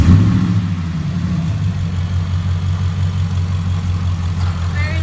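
A 2014 Ford F-150 SVT Raptor with an upgraded supercharged 600-horsepower engine fires up with a brief rev, then settles into a deep, loud, steady idle rumble close by.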